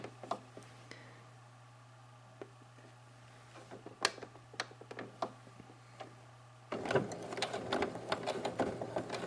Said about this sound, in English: I'm just going to give that a good back stitch there to reinforce that before coming across the bottom